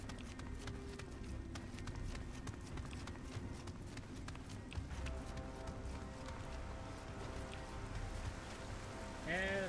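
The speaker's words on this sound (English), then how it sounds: "it's pouring down rain" Heavy rain pours down in a dark London setting in the game Nioh, a dense steady hiss with scattered drops and patter, moderately loud, joined by a brief tonal sound near the end.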